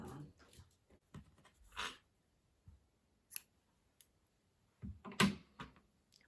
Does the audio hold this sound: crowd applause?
no